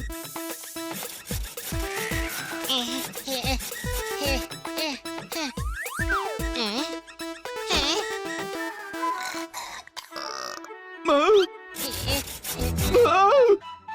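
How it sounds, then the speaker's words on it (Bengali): Cartoon sawing of a tree branch for campfire wood: rhythmic rasping strokes mixed with springy boing effects and music, with animated voices talking over much of it. "ক্যাম্প ফায়ারের জন্য কাঠ কাটছি, কিন্তু দেখ না, এই ডালটা তো কাটছেই না।"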